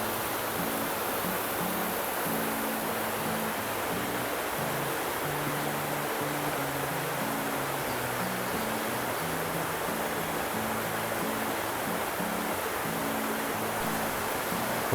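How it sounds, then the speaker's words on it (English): Steady rushing water fills the scene, a creek pouring over rocks in a constant broadband wash, with no voices. "listen to the water rushing over the rocks"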